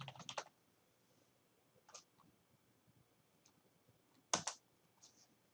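Computer keyboard keys pressed in a quiet room, a couple of short bursts of quick clicking taps separated by near silence, close and fairly faint, with no talking.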